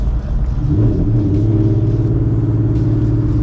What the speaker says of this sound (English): See, I'm letting the clutch out too fast, right?